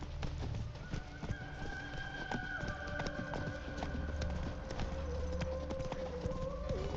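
In The Witcher 3, hoofbeats from the horse Roach clop along in a steady galloping rhythm, joined by a neigh, over a constant layer of game ambience and outdoor bird sounds.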